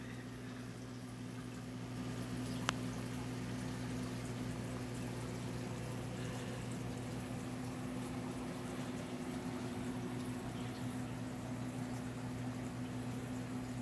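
Water draining out of a home aquarium in a fish room: a steady, continuous low liquid rush and hum, constant and moderately loud throughout, with a single brief click partway through and no talking.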